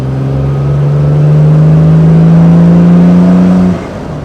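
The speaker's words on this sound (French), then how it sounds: "On vous laisse apprécier la petite montée en régime du moteur XK en deuxième, en troisième" A 1960 Jaguar XK150 3.8 with its XK straight-six engine revs up through second and third gear, a loud, close, steady droning hum rising in pitch before the throttle eases off.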